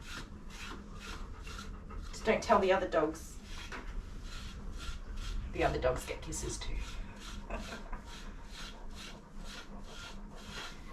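Bristle brush strokes rasping through a Maremma's thick coat during deshedding, two louder bursts of brushing amid softer rubbing, close up, with someone talking affectionately over it.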